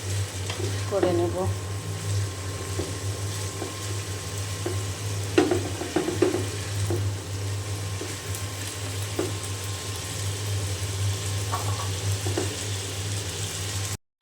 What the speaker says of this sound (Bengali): এখন খুব ভালো করে আমি নেড়ে চেড়ে দেবো, ভাজিটা